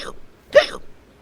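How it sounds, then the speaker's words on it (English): A single sharp hiccup from a cartoon character, heard once mid-clip, fairly loud and close, after a softer vocal sound at the start. "Oh no, I have them too. Wait, why do you guys have hiccups?"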